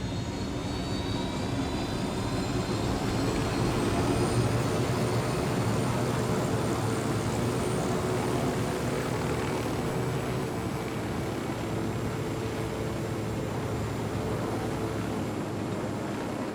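A steady, loud aircraft engine drones on without a break while piloting in the video game Ghost Recon Wildlands. The roar holds even throughout, with a faint high whine above it.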